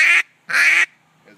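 A handheld duck call imitates a hen mallard's scare call as she flushes off the water: two loud, raspy, nasal quacks close to the listener, the second one longer, followed by a faint trailing note.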